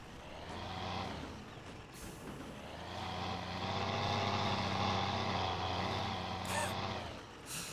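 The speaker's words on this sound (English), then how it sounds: "So, I want to try driving this into the garage area." A 1980 Toyota Land Cruiser FJ45 drives in the SpinTires Mudrunner game, its engine droning and swelling as it rolls toward a garage, with a couple of brief sharp noises near the end.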